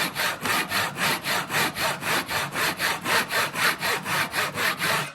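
A hand saw cuts through a wooden board for a birdhouse. Steady back-and-forth rasping strokes repeat about four times a second, close and loud, with no talking.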